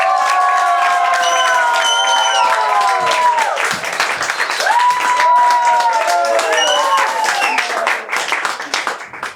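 A crowd at a stage show cheers and claps for a singer being introduced, with high excited shouts and whoops rising and falling over steady applause for several seconds.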